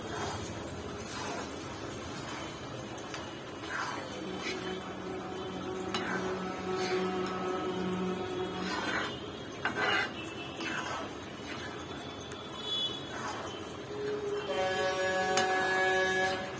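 Scrambled egg (muttai podimas) being stirred in a pan over raised heat, with steady scraping and clinking of a spoon against metal under a soft sizzle, continuous and fairly close throughout.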